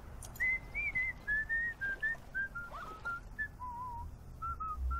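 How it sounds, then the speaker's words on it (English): A game character whistles a tune in a deck-building puzzle video game, clear and up close over a quiet background. The melody runs as a series of short notes, some held and some warbling, and breaks off after about five seconds. "I'm curious to see how long he whistles."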